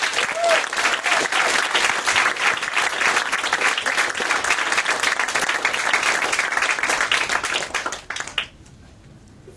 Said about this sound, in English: can we have a big round of applause for David Ansel.